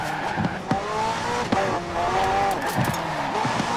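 McLaren P1 GTR supercar with a twin-turbo V8 and electric motor accelerating in Forza Horizon 4, a steady loud engine drone with rising gear pitches and brief tire squeal bursts, no talking.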